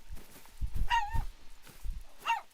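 A dog named Oscar barks and yips a few times close by during a session of the hunting game theHunter: Call of the Wild, with short bursts in an irregular rhythm over quiet room noise, with no talking.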